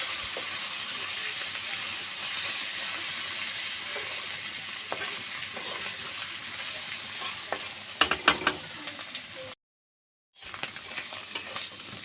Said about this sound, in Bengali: নুন আর রং গুঁড়া দিয়ে শুটকিটা ভেজে নিচ্ছি।